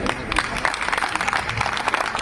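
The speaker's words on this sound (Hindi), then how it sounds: "ये ताली मारने का विषय तो ठीक है" An audience at a religious discourse on cow service claps together, a dense, even patter of many hands, fairly loud and continuous, with a little crowd murmur mixed in.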